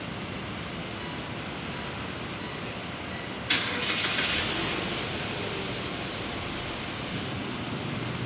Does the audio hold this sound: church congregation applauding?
no